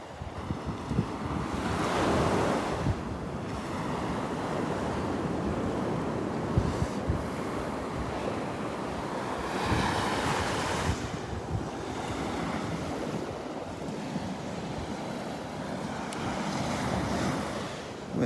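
Strong wind and rolling surf on a Gulf beach on a cold morning, a loud constant roar with surging swells and gusts buffeting the microphone, no voices.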